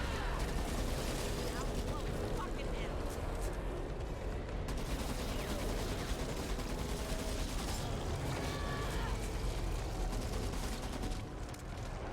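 A grenade explosion and gunfire in the Back 4 Blood shooter game, a loud, dense, continuous wash of shots and blasts that barely lets up, with voices mixed in underneath.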